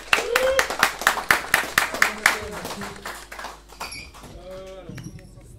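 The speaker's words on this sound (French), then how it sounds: "On va faire des applaudissements, s'il vous plaît." Audience clapping in a French Christmas broadcast studio, a burst of loud close applause for a couple of seconds that fades while people talk and call out over it.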